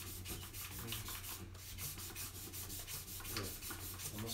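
Quiet, rapid rubbing of 1000 grit sandpaper on a Telecaster guitar part, a fast steady back-and-forth scrubbing rhythm, close and soft, with no voices.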